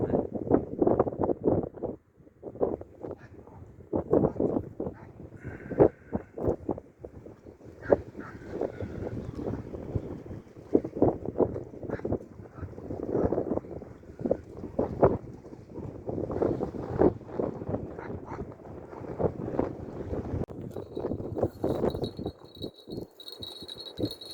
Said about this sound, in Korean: 오늘 바람이 너무 많이